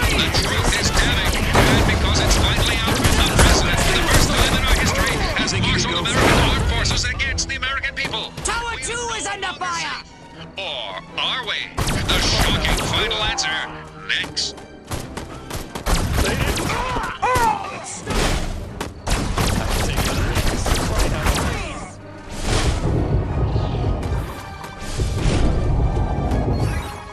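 Gunfire and heavy impacts strike a defensive tower in the alien-invasion game Destroy All Humans!, with loud bursts of shots and thuds arriving in waves and brief lulls between them, layered under a voice talking.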